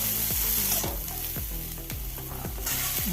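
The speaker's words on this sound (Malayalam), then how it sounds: "മൂന്ന് പച്ചമുളക് ചെറുതായി അരിഞ്ഞതും കൂടി ഇട്ട് കൊടുത്ത് ഇന്ന് വാടി വരുന്നവരെ ഇളക്കിക്കൊണ്ടേയിരിക്കാം" Three finely chopped green chillies sizzle loudly in hot oil, with a spoon scraping and stirring through them in a steady rhythm, close up and with no voices.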